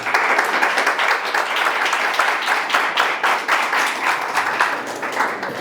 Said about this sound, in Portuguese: dá a sua melhor salva de palmas ao nosso Deus pela vida da Carol